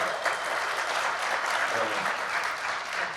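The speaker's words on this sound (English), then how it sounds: "Thank you, Joe, for leading that clap" Audience applause fills an Alaska business event hall, a dense, steady wash of many hands clapping at moderate loudness without a break.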